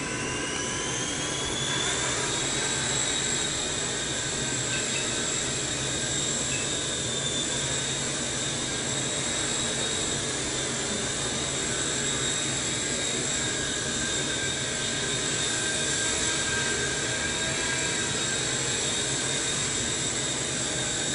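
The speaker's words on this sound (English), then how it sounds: "let's lift it off and see what we got here" A steady high-pitched electric whine of a small Align T-REX 100S RC electric helicopter spinning up, lifting off and hovering close by, with sustained rotor buzz throughout.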